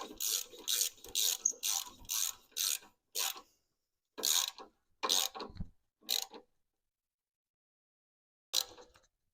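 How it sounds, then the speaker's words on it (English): Rapid rasping clicks of a ratchet wrench snugging down a bolt on a Nissan Altima exhaust flange, close and loud, coming in bursts of quick strokes with brief pauses and a final short burst after a gap. "Let's tighten this bottom one right up."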